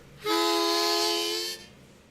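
Harmonica imitating a train horn: a single sustained, reedy chord blast lasting just over a second, loud and close, then fading out.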